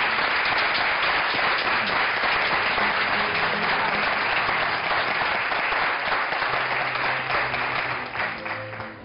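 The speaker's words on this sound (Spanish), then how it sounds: "Un aplauso." An audience applauds warmly in a studio setting, steady dense clapping throughout that begins to thin out near the end.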